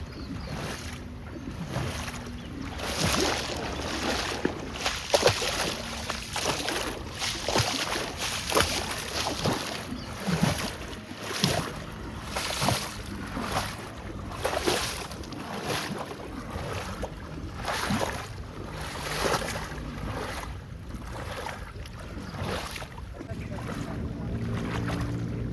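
Floodwater rushing over a road in Panvel after heavy monsoon rain, a continuous loud churning roar with surging, splashing pulses throughout, heard close and alone.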